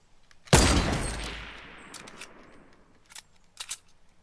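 A sudden loud burst of gunfire in Fortnite, a dense volley that rings out and decays over about a second, followed later by a few softer, sharp clicks and clatters.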